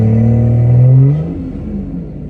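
A BMW B58-engined car revs hard with anti-lag, a loud rising tone that peaks and cuts off after about a second, then settles into a rough idle rumble.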